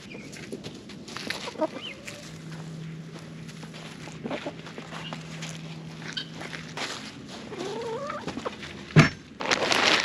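Backyard chickens cluck and murmur softly close by at a coop, with scattered footsteps and rustling, a faint steady hum in the background and a sharp knock near the end.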